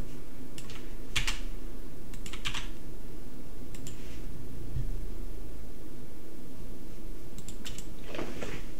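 Someone types on a computer keyboard in short, scattered bursts of clicking keystrokes over a low steady hum, with pauses between the runs.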